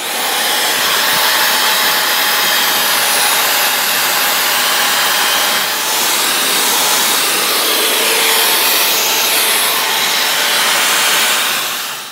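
A buffing wheel grinding oxidation off the surface of a boat during prep for a 1962 Johnson 3 HP restoration, a loud, steady, unbroken whir that runs close and alone for the whole stretch.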